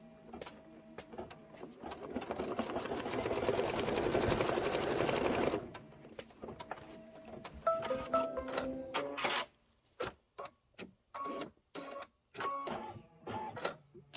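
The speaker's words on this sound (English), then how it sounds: "go ahead and just hit start again. It's going to be the placement stitch for the other mushroom stem" An embroidery machine sews a placement stitch for a mushroom stem on a pillow block, a fast close rhythmic whir for several seconds, then slower stop-start stitching in short separated bursts.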